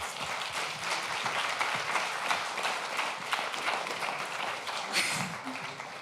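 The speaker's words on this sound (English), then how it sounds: "another round of applause for Serena" Audience at an open-source conference applauding a speaker, steady mid-distance clapping from a crowd lasting several seconds at modest volume.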